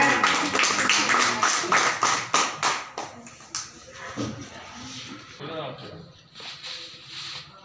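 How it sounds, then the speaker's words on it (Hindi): Audience clapping at a New Year poet gathering and poetry contest in Tundla, a dense burst of claps that thins into scattered taps and shuffling toward the end. "जोरदार तालियां बजाएं।"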